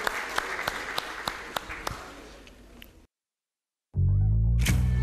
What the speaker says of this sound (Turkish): Büyük alkışlar.